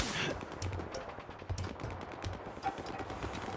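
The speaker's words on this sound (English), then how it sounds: "So they're either all shooting at me, or a civil war is breaking out because they're fighting each other." Gunfire from the video game STALKER 2: Heart of Chernobyl, a steady patter of distant shots and bursts from several directions, with no clear single standout report, continuing throughout over a noisy ambient backdrop.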